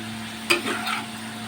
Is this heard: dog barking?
no